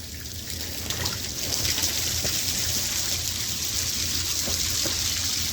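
Rainwater running down clogged, obstructed rain chains outdoors in Florida in June, a steady trickling and splashing flow that swells slightly after the first second and then continues evenly, close by and with no talking.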